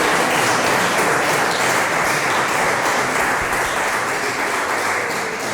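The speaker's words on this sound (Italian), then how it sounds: "L'ultimo applauso lo ridiamo al maestro Scattolin e al maestro Barutti" Applause from an audience after a July music concert of sung pieces, a loud, dense and sustained wash of clapping that continues unbroken throughout with no voices over it.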